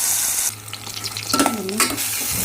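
A paste of onion, garlic, ginger, mint and coconut sizzles in a pan as it is stirred into a gravy, with a loud hiss that drops away and then a few close scraping stirs.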